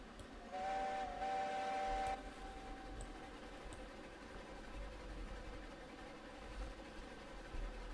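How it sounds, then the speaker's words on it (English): Steam locomotive whistle in the RailRoads Online game sounds one steady, fairly loud toot of about a second and a half at a freight yard, followed by continuous engine and rail rumble. "Give the old freight yard a toot on the whistle."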